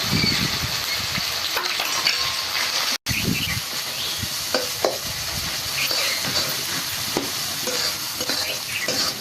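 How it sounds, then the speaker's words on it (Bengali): Spice paste with turmeric frying in a pan for a Bengali brick-fish curry, a steady close sizzle with repeated scraping and stirring strokes throughout, with no talking. "মশলাটা বেশ ভালোভাবে কষিয়ে নেব। দিয়ে দিচ্ছি হলুদ গুঁড়ো,"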